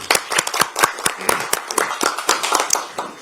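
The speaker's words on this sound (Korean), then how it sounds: "큰 박수를 부탁드리겠습니다." Audience at a Democratic Party recruitment ceremony claps in a brisk, uneven burst of close, sharp handclaps that fills the room steadily, with no voices on top.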